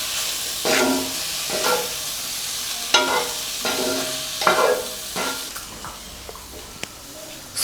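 A spoon stirs freshly ground masala powder into cauliflower frying in a pan for Gobi pepper fry, with steady sizzling broken by repeated scraping strokes and a few sharp clinks of utensil against the pan.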